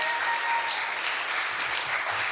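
A crowd at the California Clean Money democracy rally claps steadily and loudly throughout to welcome Councilmember David Ryu to the stage.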